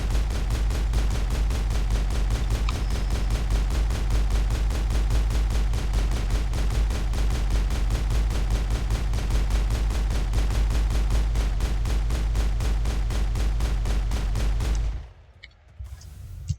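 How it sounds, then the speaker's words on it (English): A pistol fired on full auto in Mass Effect 1 hammers out a steady, evenly spaced stream of loud, close shots for about fifteen seconds before abruptly cutting off. "Just full auto the pistol then."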